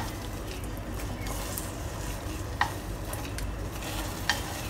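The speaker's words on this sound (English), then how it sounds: "you need to fold them so that the flour will be cooked" Glutinous rice dough is folded and stirred in a pan over low heat, giving a steady soft scraping with a faint sizzle and two brief, sharper scrapes.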